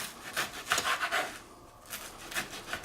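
A knife saws through strips of bread, chopping them into smaller pieces for a food processor, in short rough rasping strokes with a brief pause in the middle, close up and with no speech.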